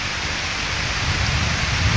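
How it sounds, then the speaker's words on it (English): Steady loud roar of rushing water and gusting wind at a waterfall, a dense hiss of spray filling the air with no pauses. "it's really choppy and windy"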